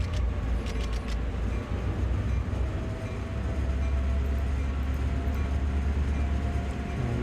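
A passenger train in Train Sim World on the Peninsular Corridor pulls away under throttle, a steady loud rumble of engine and rolling wheels with a few sharp high squeals early on and no talk over it.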